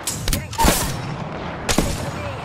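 Longbow rifle shots in Apex Legends crack out as a few sharp, separated reports, each with a punchy low thump and a brief ringing tail, amid faint background game noise.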